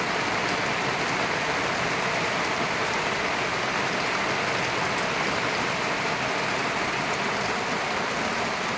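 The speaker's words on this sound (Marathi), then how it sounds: "सकाळपासून झिमझिम होता, पण आता थोडा वाढलेला आहे पाऊस." Steady, fairly heavy rain hisses continuously on surfaces, dense and unbroken, with no voices.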